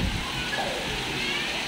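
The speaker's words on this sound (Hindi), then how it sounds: "आप देख सकते हो इतना तेज़ पानी गिर रहा है" Fast water rushes from the Madikheda dam on the Sindh river, a dense, steady roar of flowing water close by with someone speaking over it.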